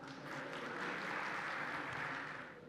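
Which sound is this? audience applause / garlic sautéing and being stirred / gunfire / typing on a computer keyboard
audience applause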